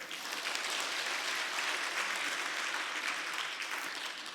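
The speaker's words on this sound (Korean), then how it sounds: "여러분 박수 한번 쳐주세요" Applause from a church congregation fills the sanctuary, a dense, steady wash of many hands clapping at once, sustained evenly throughout without pause.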